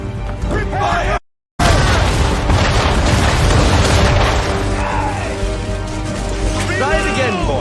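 A volley of ship's cannons booms heavily with continuous thundering rumble and crashes, loud and dense, while a voice shouts over the din.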